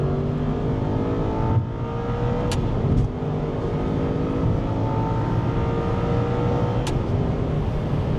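An Aston Martin Vantage S V8 accelerates with a steady, loud engine drone heard from inside the cabin, pitch climbing through the gears with brief shift breaks.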